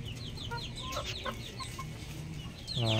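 White Kelso chickens in a small backyard coop cluck and squawk in short bursts over a steady rural background, with a rooster beginning a crow at the very end.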